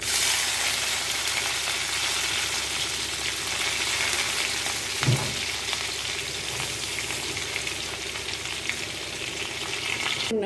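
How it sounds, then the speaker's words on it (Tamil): Mustard seeds, ginger and green chili frying in hot oil for a Tamil tempering, a steady dense sizzle with a faint crackle and a brief louder pop midway, close and continuous with no talk. "இப்போ கடுகு இஞ்சி பச்சை மிளகாய் எல்லாம் போட்டிருக்கேன்"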